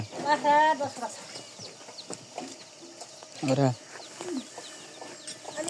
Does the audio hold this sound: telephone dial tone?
no